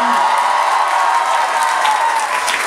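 A large crowd applauding at a comedy festival show, dense, continuous clapping that holds at a loud, even level from start to finish with no voice breaking through.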